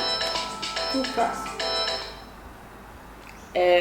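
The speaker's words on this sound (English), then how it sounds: "My phone was just telling me that it's lunchtime." A mobile phone alarm chimes in repeated short tonal bursts for about two seconds, fades out, then starts again near the end, loud and close over a quiet room.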